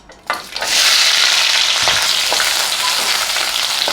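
Onion frying in a pan for a potato and capsicum gravy: a sharp hiss as the onion goes in, then a loud, steady sizzle that continues without talking.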